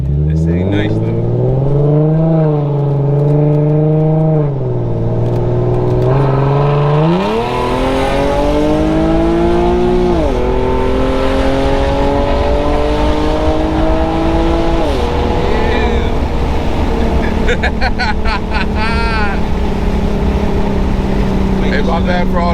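An Infiniti G37 with muffler and resonator delete revs hard, a loud raspy exhaust rising and falling through repeated climbs, with wind noise and voices talking throughout.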